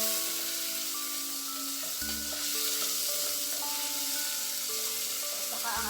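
Chopped onions and tomatoes sizzle and fry steadily in a hot pan with oil, a continuous crackling hiss broken by occasional stirring scrapes, close and fairly loud throughout.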